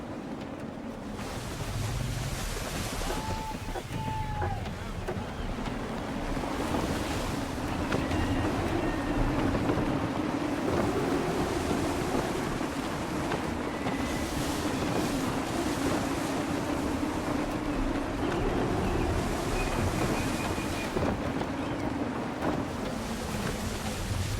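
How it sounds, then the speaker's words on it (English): Video game sailing from Assassin's Creed III: gusting wind roars over steady ocean waves and a rushing hull, with creaks and a few faint tonal calls underneath, continuous and fairly loud, and no talking. "Gusty winds can be difficult to manage."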